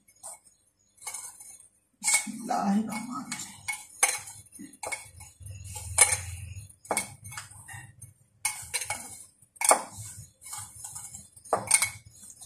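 A spoon mixing a sugary sweet filling in a bowl for an old-style mithai, with a run of irregular clinks and scrapes in short bursts separated by quiet gaps, close up and with no talking.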